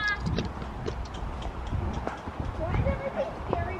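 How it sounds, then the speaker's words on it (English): Horse hooves trotting on a trail ride, giving a rhythmic clip-clop of moderate loudness under outdoor voices and background noise. "If my horse starts to trot, then we're trotting."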